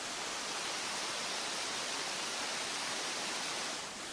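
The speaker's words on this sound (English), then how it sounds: "take a listen to this sound this waterfall make" A waterfall roars in a steady, dense wash of rushing water, loud and unbroken throughout with no voices.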